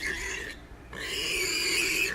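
A baby warthog squeals in the wild, hunted by a leopard, two loud, harsh, close cries, the first short and the second longer and strained, separated by a brief gap.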